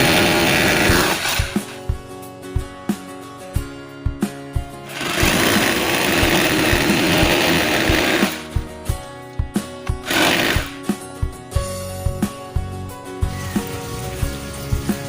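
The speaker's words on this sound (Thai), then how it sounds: "นำสว่านกระแทกมาเจาะตรงรูที่มาร์กไว้สองรูให้เรียบร้อย" Loud hammer drill boring into a wall to mount a water filter, in long grinding bursts, then shorter repeated pulses and knocks, close up.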